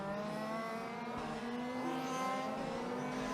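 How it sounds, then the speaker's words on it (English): Large-scale RC race cars speed past on a track during a national final, a continuous high-pitched buzzing whine of several small engines overlapping at steady loudness. "we've got our cars coming through"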